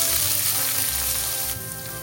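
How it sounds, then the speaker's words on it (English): Chopped onions and cumin seeds fry in hot cooking oil with a loud, close, continuous sizzle that eases slightly toward the end of the short stretch. "2 tablespoons of cooking oil, a tablespoon of jeera. To that add 1 cup of chopped onions."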